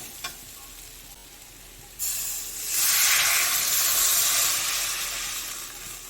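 Water poured into hot frying masala for a fish curry bursts into a loud, rising hiss and sizzle after a quieter stretch, swelling to fill the pan and holding strong for several seconds.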